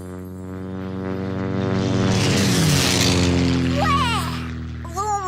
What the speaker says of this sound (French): Alors, ce sont les avions qui font le plus de bruit.